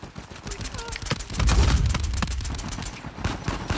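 Gunfire rattles in a video game shooter, with rapid overlapping shots that swell into a heavier burst midway and then keep cracking at a steady, loud level.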